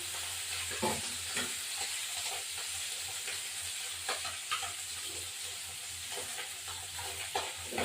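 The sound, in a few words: kalonji (nigella) seeds sizzling in hot oil, tempering after frying tilapia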